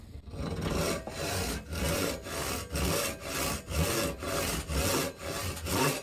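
A hand saw crosscuts a board in steady back-and-forth strokes, about a dozen rasping passes in quick even rhythm, close and fairly loud.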